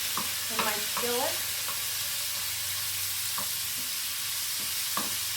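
Pieces of chicken breast fry in sesame oil in a skillet with a steady, hissing sizzle. A few sharp clinks from stirring sound early on, then sparse taps as the sizzle carries on alone.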